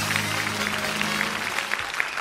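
Audience applause at a contemporary arts studio's stage concert in Hrazdan, a steady wash of clapping at moderate distance sustained for about two seconds without pause.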